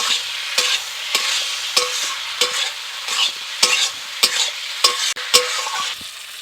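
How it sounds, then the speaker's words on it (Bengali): Fried potatoes and pointed gourd sautéed and stirred in a pan for a rohu fish curry, a steady close sizzle broken by about ten regular scraping stirs of the spoon, with no talking. "ভেজে রাখা আলু ও পটলকে দিয়ে দিচ্ছি। দিয়ে এটাকে একটু ভালো করে কষিয়ে নেব।"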